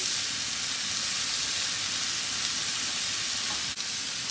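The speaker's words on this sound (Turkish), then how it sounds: "Bir de bu taraflarını pişireceğiz. Dört tarafından da ısıyı vermiş olacağız." Chicken kebab skewers sizzle in a very hot pan while being turned to sear each side, a steady close, bright frying hiss with no talk.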